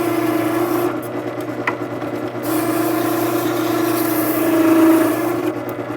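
A file rasps steadily across a woodworking scraper to sharpen it, a continuous close scraping drone with slow back-and-forth swells and no talking.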